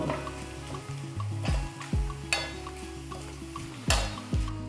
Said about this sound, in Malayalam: 1 ടീസ്പൂൺ മുളക് പൊടിയും കൂടെ ഇട്ടതിന് ശേഷം നമുക്കിത് വീണ്ടും നന്നായിട്ടൊന്ന് മിക്സ് ചെയ്ത് കൊടുക്കാം.